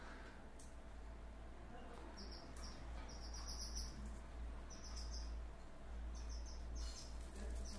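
A rescued swallow chick gives thin, high chirps in short repeated bursts while being hand-fed, faint over a steady low hum, with a person murmuring softly nearby.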